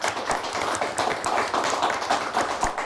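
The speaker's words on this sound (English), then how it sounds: "Let's give them a nice round of applause." An audience claps for a quiz team at a televised high school quiz show, a steady, moderately loud patter of many hands with no talking over it.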